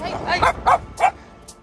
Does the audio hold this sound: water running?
no